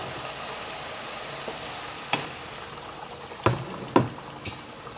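Green chili with added water bubbles in a pot, a soft continuous simmer broken by a few louder pops and bursts of bubbles near the end.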